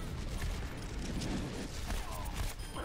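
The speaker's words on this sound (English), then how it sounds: "Someone's shooting rockets." Rockets firing in the video game Overwatch: dense, booming blasts and crackling bursts pile up continuously over a busy battle din, with no talking.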